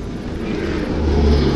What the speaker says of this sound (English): there's an airplane flying over me.